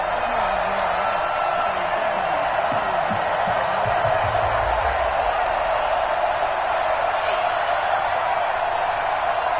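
A steady, loud wash of stadium crowd noise from an EA Sports Madden NFL video game, Arizona Cardinals against the Chicago Bears, with a broadband roar that holds throughout and a voice talking over it near the start.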